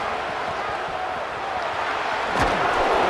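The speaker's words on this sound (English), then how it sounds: "Listen to this crowd just shaking the girders of this place, trying to help their defense." A college football stadium crowd roars steadily and loudly in the EA Sports College Football video game, a dense wall of cheering that swells toward the end with a single thump.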